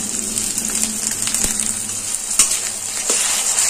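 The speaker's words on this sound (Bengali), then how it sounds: "এবার এই পেঁয়াজ বাটাটা এই কুচানো পেঁয়াজের সঙ্গে একটু ভেজে নেব।" Ground onion paste fries together with chopped onions for a hilsa fish pulao, a loud, constant sizzle close by with occasional sharp clinks and scrapes of stirring.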